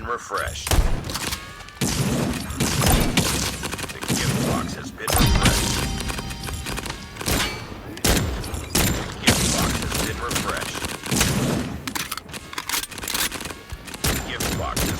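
Rapid bursts of gunfire from the Carnival Shoot out video game ring out in repeated volleys with thuds and crashes, loud and busy throughout, with a voice speaking between shots.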